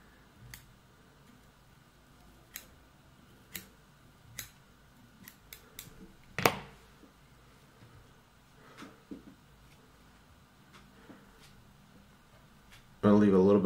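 Small scissors snip bucktail hair while a Gamechanger muskie and pike fly is tied, several sharp close cuts spaced irregularly across quiet surroundings, followed by a brief burst of voice at the end.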